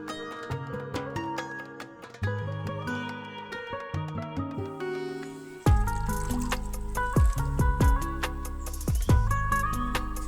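Water trickles and drips close up as larch seedling roots soak, with gurgling splashes and liquid sloshing that grow louder midway, set under a musical backing.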